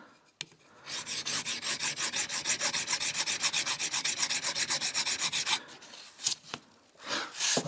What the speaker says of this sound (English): Just file it till the pin disappears.